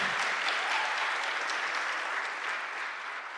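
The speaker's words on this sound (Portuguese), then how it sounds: "Mas aí, glória, vamos aplaudir," A church congregation claps together in praise, a dense, even burst of applause filling the room for several seconds before gradually tapering off.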